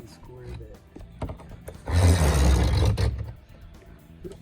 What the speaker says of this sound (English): that right there is a laminate cutting knife, and we're cutting it from the back